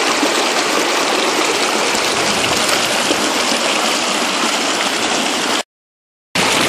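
River water rushes steadily through a gold sluice box in a loud, dense, continuous gush, then cuts out briefly before resuming, with no voices.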